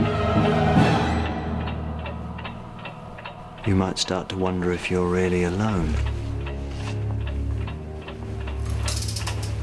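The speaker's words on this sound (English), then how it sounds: "No one notices the sound of one clock ticking, but two..." A clock ticks steadily in a quiet bedroom beneath a voice speaking over dramatic orchestral scoring, the ticks regular but partly masked by music and talk.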